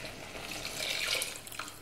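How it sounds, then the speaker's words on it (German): Water pours into a cooking pot of frying celery and spices, a continuous close splashing rush that swells and fades over a couple of seconds. "Und wenn das alles kocht, das Wasser hinein."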